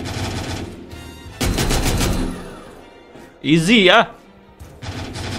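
Rapid bursts of automatic gunfire from the player's weapon in The Walking Zombie video game, loud rattling volleys with short pauses, while someone talks excitedly over the action.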